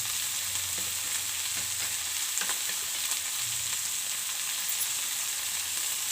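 Whole spices such as coriander seeds, cumin, cinnamon, cardamom and cloves, with cashews, ginger and garlic pieces, fry steadily in a pan for an egg gravy curry, a constant close sizzle with faint stirring scrapes and no talk.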